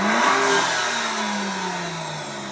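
A close turbocharged Maserati MC20 engine roars at high revs, then the pitch slides gradually downward as it winds back down. No one speaks.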